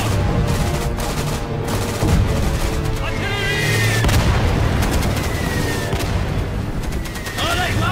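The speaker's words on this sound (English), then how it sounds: "Request immediate barrage on objective able." An artillery barrage in a Battlefield-style war game trailer: heavy booms and rumbling shell fire, loud and dense throughout, with whistling streaks overhead and voices heard in the mix.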